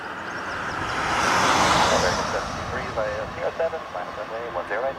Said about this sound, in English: AA Dreamliner, Philadelphia bound,